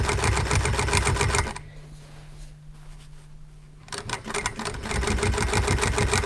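A sewing machine stitches through drapery buckram in a fast, steady mechanical chatter, close and loud. It stops for about two seconds and leaves a low hum before the stitching resumes.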